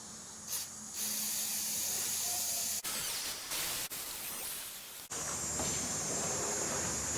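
Cleaner sprays onto a bicycle chain in a long, steady, close hiss, broken by a few brief gaps between sustained bursts, with no speech.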